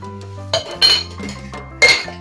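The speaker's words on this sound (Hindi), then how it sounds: "वो स्टील वाले गिलास भी जो है ना पुराने, वो भी निकाल दो" Old tall steel drinking glasses and utensils clink and clatter as they are handled and set down, a few sharp metallic knocks with ringing tones in a quiet room.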